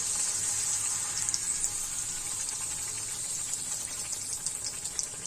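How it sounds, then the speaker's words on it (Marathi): Puris for panipuri deep-fry in hot oil, giving a steady close hiss of bubbling with small crackles scattered over the top, continuous and without speech. "मग त्यात अशा तेलामध्ये ह्या पुऱ्या तळायच्या"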